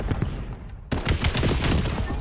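Rapid volley of video game gunfire from a pistol during a competitive match, sharp repeated shots crowding close together over a couple of seconds with no commentary audible.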